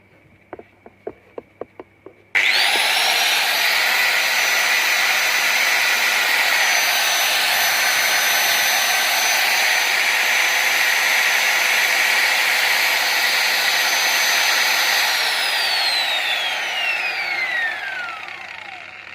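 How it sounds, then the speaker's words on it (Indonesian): An angle grinder plugged into a homemade electric stove setup whines up abruptly to a loud, steady high-pitched motor drone after a few clicks, running alone for many seconds before spinning down with a falling pitch. "nih kita tambahkan colok gerinda langsung"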